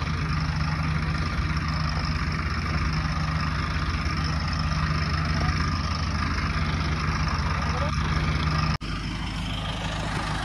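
Arjun 555 DI tractor engine held at full throttle, a steady loud drone with constant low rumble through the whole stretch, briefly dipping near the end, with no talk over it.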